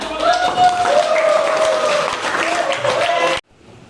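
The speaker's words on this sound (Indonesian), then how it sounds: "Tepuk tangan." A classroom of students claps for a presenting group, a busy burst of applause mixed with loud voices and a few shouts, cutting off abruptly to near quiet just before the end.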